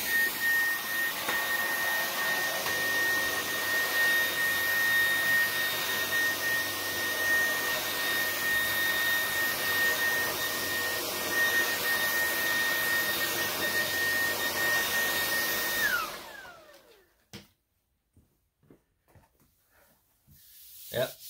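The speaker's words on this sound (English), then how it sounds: "So this DreamTech T10 stick vac is perfect for this." DreamTech T10 stick vacuum running on high speed, a loud steady whine and airflow roar with a high tone, cutting off near the end and followed by quiet clicks and handling.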